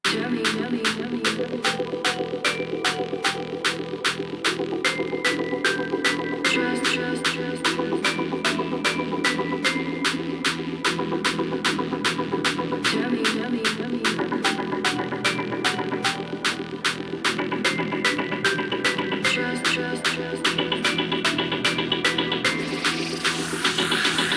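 A full colour bass track plays: a steady, punchy beat under dense layered synths, with a reversed impact sample from Kasori's sample pack swelling in, loud and continuous throughout.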